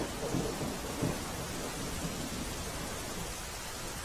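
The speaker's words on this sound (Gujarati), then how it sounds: "ધોરાજીમાં સાંબેલાધાર વરસાદ પડ્યો" Heavy monsoon downpour with thunder in Dhoraji, Rajkot: a dense, constant roar of rain with low thunder rumbles swelling early on, then fading into the steady pour.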